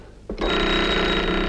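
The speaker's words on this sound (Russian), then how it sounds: "Звонит, Александр Степанович." An electric bell rings through an early radio receiver in a late 19th-century laboratory demonstration, starting abruptly and holding as a steady, loud, continuous metallic ring that fills the rest of the moment.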